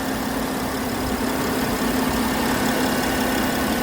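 A 2016 Porsche Panamera's 3.6 liter V6 idles steadily, a close, constant low hum with a faint vibrating drone and no voices, unchanging throughout.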